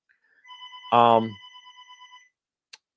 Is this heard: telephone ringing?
yes